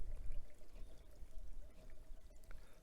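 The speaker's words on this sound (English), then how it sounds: "We have a little waterfall happening over here." A small waterfall of runoff water spills in a yard beside an outdoor shop, a steady nearby pouring rush with gurgling, alone without voices.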